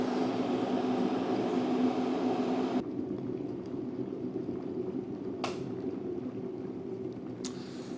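An electric kettle powered by a Jackery 2000 Plus portable power station rumbles and hisses at a full boil, then drops to a quieter simmer as it switches off, with a couple of faint clicks.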